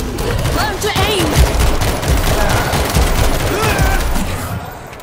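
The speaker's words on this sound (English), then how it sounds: "Stationary machine gun in position." Sustained machine gun fire from a stationary emplacement in the zombie shooter World War Z, dense and loud throughout, with game voices and music mixed underneath.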